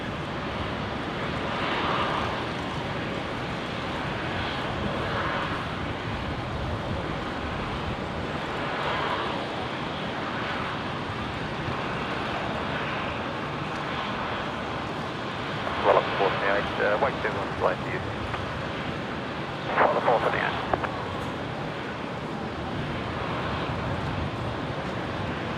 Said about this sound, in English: The Dash 8 heading to Bundaberg